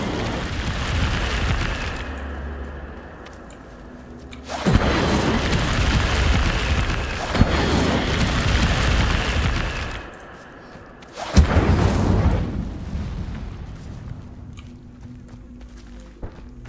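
Incendio fire spell cast in Hogwarts Legacy, loud whooshing roaring bursts of flame that swell and cut off, three separate casts with quieter game ambience between.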